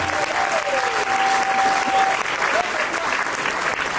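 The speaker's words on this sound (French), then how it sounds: "Est-ce qu'on peut applaudir?" Wedding guests applaud loudly at a civil marriage ceremony, a dense, continuous roar of clapping that fills the whole stretch, with brief whistle-like tones rising above it.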